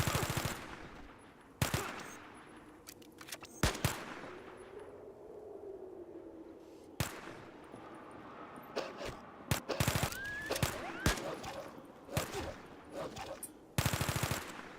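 Bursts of gunfire from the tactical role-playing game Fallout Tactics, with rapid automatic volleys and sharp single shots scattered across the stretch, loud against a busy game background.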